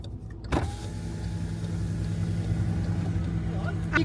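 Large trucks rumbling past at a work site, with a deep, steady engine drone building after a sharp knock near the start and continuing at close range throughout.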